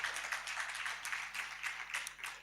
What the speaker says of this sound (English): Please, one more time, a round of applause for Kia Wakesho.